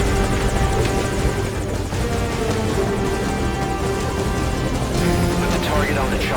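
Helicopter in the stealth video game Metal Gear Solid V Ground Zeroes, a loud continuous rotor and engine drone with a steady mechanical throb, holding nearly level throughout.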